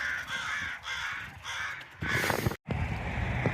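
A murder of crows caws repeatedly outdoors, rhythmic harsh calls in bursts over steady background noise, with a louder rush of sound near the end.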